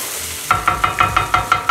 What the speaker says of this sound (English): So I sweat my onions.